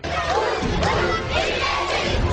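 A crowd of party supporters at the opening of an election campaign office in Hacılar town roars, cheers and applauds loudly and continuously, a dense close wall of voices and clapping.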